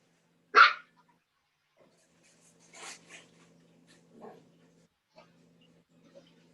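A dog barks once, sharp and close, during a recorded class lecture, followed by faint scattered yips and whimpers against a quiet room.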